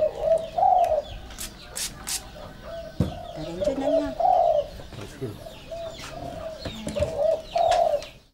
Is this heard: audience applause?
no